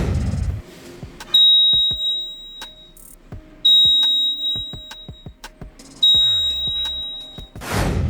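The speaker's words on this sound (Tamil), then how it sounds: "இந்த வீடியோவில் நம்ம என்ன செய்ய போகிறோம்னு பார்த்தீங்கன்னா லேசர் செக்யூரிட்டி அலாரம்" A homemade laser security alarm sounds three sharp, high-pitched beeps, each about a second long, spaced a few seconds apart amid small clicks and handling noises.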